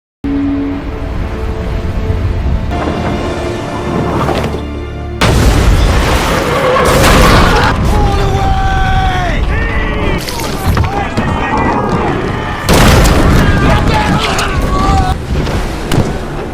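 Loud explosions in a film battle as the Kraken attacks ships at sea, with heavy booming blasts and rumbling debris, cracking bursts and turbulent churning noise running throughout, under a dramatic score.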